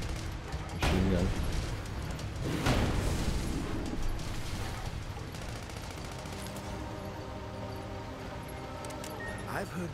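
Machine gun fire in the Sand Land video game, dense rattling bursts mixed with explosions and game noise, with someone talking over it.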